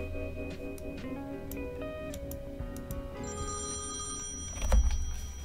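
An old-style telephone bell rings steadily in the point-and-click adventure game Thimbleweed Park, set against soft game music with a dull thunk near the end.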